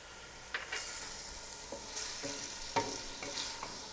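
A large, coarsely cut garlic clove sizzles in a pan over high heat, a steady soft frying hiss broken by a few scraping stirs.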